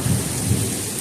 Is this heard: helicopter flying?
no